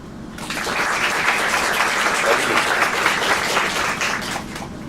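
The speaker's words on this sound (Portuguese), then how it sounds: "por favor, uma salva de palmas para a Crícia" At a conference, an audience welcomes a speaker, Krissia Zawadzki, with loud, close applause that swells in within the first half-second and continues as dense, even clapping to the end.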